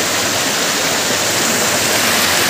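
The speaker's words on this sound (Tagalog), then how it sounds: "May sapa mga guys din CB." A mountain stream on a hiking trail rushes in a steady, dense wash of flowing water, loud and close, with no pauses and no voices.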